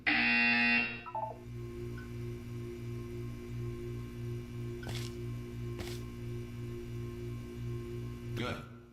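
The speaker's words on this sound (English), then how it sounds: "You will hear a buzzer" A loud harsh buzzer from the video game Portal 2 blares for about a second. A low rhythmic pulsing hum follows, with a few brief clicks.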